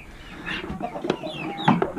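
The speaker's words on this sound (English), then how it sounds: "a chicken that can fly out of their pen" Chickens near their pen, clucking close by in a few short bursts over faint background noise.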